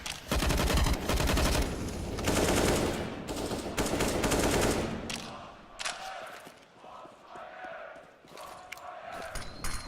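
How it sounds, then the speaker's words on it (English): Counter-Strike: Global Offensive gunfire on the Inferno map during a pro tournament final, with dense automatic rifle bursts firing through smoke that then thin into scattered single shots and footsteps, while a commentator talks over the action. "Firing through smokes even."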